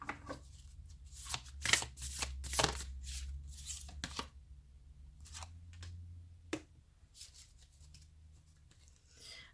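A Divine Feminine oracle card deck is shuffled by hand in short, close riffling bursts separated by quiet pauses, soft and intimate with no talk.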